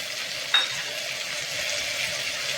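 Washed vegetables, including cluster beans, flat beans, peas and brinjal, hiss and sizzle steadily in a hot pan, with one brief clink near the start and no voices.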